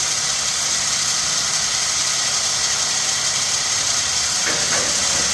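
A truck bike lift on a Kenworth W900 runs out, with a steady mechanical hum and engine drone throughout and a couple of faint squeaks near the end.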